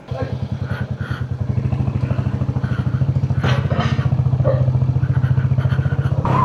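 A motorcycle on a touring ride through the mountainous roads of North East India toward Roing, its engine thumping in a close, steady rapid pulse throughout, with people talking over it.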